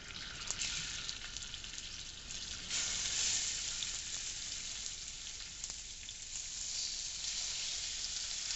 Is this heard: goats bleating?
no